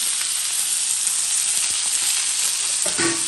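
Garlic stew (vellulli pulusu) cooks in a pan with a loud, continuous, close sizzling hiss that holds steady throughout, with a faint stir near the end.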